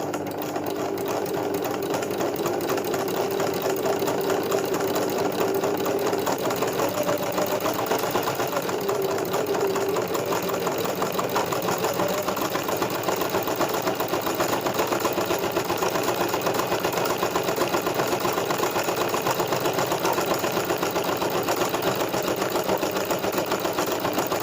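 A sewing machine embroiders a small flowered cat design, running steadily and evenly at close range for the whole stretch with a constant whirring mechanical buzz and no pauses or talk.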